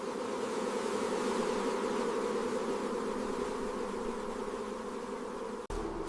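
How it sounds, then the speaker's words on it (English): Dense, steady droning buzz of a large swarm of bees, continuous and fairly close, with no voices. "Thousands of bees moved in one direction."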